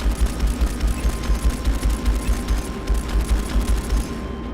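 A mecha in the Strike Suit Zero video game fires its energy cannons in rapid, rhythmic volleys, a loud pulsing barrage of repeated shots with mechanical thumps underneath.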